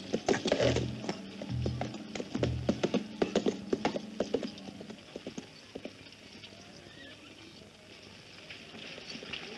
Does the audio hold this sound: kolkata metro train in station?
no